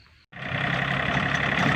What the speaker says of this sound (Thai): เดี๋ยรถไถเริ่มแล้ว